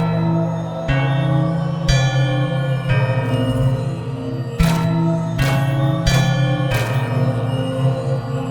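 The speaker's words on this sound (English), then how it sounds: "I can show you how the bells of Melia work." Bells of Melia in the video game Outcast: A New Beginning, struck about seven times at irregular intervals, each strike a bright ringing hit over a sustained tonal musical drone.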